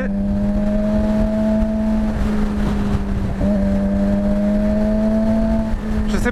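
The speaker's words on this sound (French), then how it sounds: "Je sais pas si vous trouvez que mon pot fait beaucoup de bruit ou pas assez." A motorcycle exhaust, from a Yamaha MT-07 or Suzuki GSXR on a ride, gives a loud, steady low engine drone that holds an even pitch with a slight dip midway, under constant wind rush.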